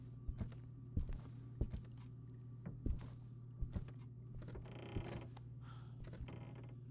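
A door in the horror game Demonologist creaks as it swings shut, with a series of creaks and knocking thuds spaced every second or so over a steady low hum.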